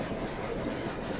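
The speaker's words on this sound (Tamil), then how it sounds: "அப்படியே இந்த பக்கம் பாத்தீங்கன்னா ட்ரெயின் போயிட்டு இருக்கு" The Ooty toy train rolls past steadily, a dense continuous rumble with rhythmic rattling of wheels on track, fairly close and loud throughout.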